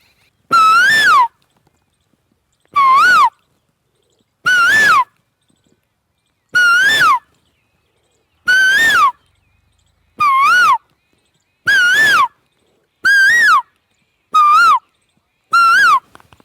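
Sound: Asian koel call

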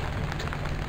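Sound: light rain drizzling

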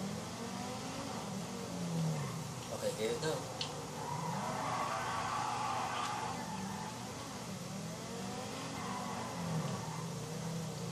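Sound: car accelerating in 0 to 60 launch

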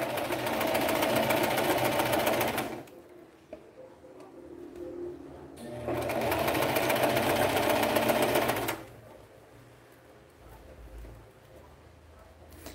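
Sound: sewing machine stitching horsehair braid (crinol)

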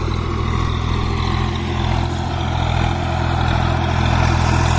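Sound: 1991 Swaraj 735 FE tractor engine pulling tiller

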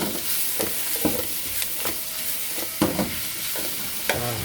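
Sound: stir-frying smoked duck in a pan

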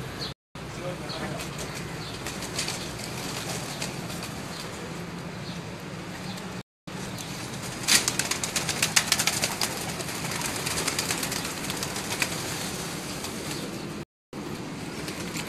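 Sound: pigeons cooing and flapping wings

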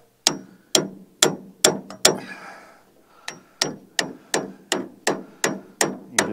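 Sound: hammer tapping bushing into New Holland 488 haybine

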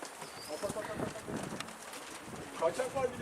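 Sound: domestic pigeons at a loft

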